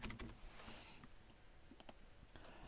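Quick bursts of keystrokes on a computer keyboard as a date is typed, faint and close, irregular clicks clustered at the start and near the end, no talk.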